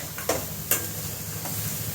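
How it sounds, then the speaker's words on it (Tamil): Mutton pieces sautéing for chukka in a pan, a steady soft sizzle with a few sharp stirring scrapes and clinks, close and alone with no talking. "வதக்குங்க நல்லா."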